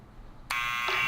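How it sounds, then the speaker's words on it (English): Electric door buzzer sounding loud and harsh, starting abruptly and holding as a steady continuous drone with a brief pulse of emphasis near the end. "Let's have a look at the buzzer."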